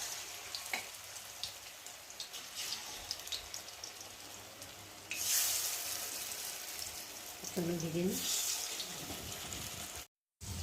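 Pieces of saag frying in hot oil in a pan, a steady crackling hiss running throughout, loud and near, with brief clinks and scrapes as items are lifted out.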